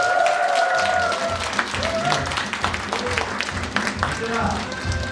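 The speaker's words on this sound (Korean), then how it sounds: "오늘 수고하신 세 분께 박수 한번 부탁드립니다" Fans at a year-end fan meeting applaud, a moderate round of clapping spread across the room, with a voice talking over it near the start and scattered calls rising through the crowd.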